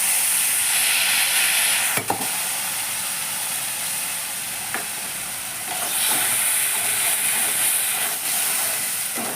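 Spice mixture poured over fried potatoes in a pan for a Bengali egg and pointed gourd curry sizzles with a continuous loud hiss, broken by a few sharp utensil clicks.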